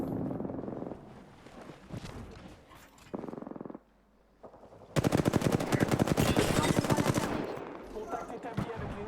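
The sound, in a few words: gunfire in Apex Legends video game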